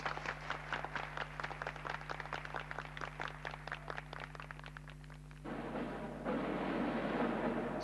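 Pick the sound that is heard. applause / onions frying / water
applause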